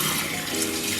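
Lukewarm tap water runs steadily into a sink as a face is rinsed clean, a continuous broadband splashing rush close by with no voices over it.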